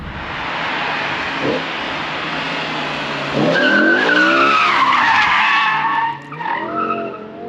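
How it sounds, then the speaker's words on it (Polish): A V10 BMW M5 E60 slides sideways with tires squealing and skidding loudly, engine roaring underneath, the screech rising and wavering for several seconds. "Ależ to idzie bokiem."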